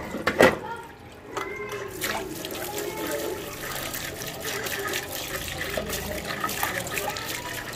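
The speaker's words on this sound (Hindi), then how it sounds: "गोभी धो लेती" Tap water running over cauliflower as it is washed in a home kitchen, a continuous splashing trickle after a sharp clatter at the start, with soft background noise.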